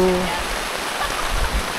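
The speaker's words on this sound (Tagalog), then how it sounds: "Dinig nyo ba yan? Gumuhos na ang ulan." Heavy rain pours down steadily in a broad, constant wash of noise near a lake, with a faint voice briefly audible at the start.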